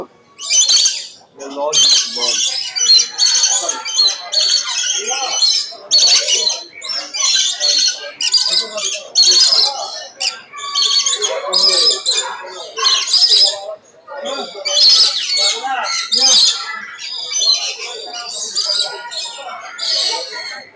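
Many birds squawk, chirp and call in dense, overlapping bursts close by at an animal exhibition fair, loud and nearly continuous, with a voice talking among them.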